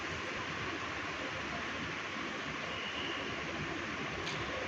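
Eggs fry in hot mustard oil in a wok, giving a soft, even sizzling hiss that holds steady and quiet throughout with no talking.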